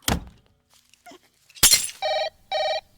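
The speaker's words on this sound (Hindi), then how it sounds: "फोन आ गया।" An old-style telephone bell rings in two loud bursts after a sharp clatter and a heavy thunk.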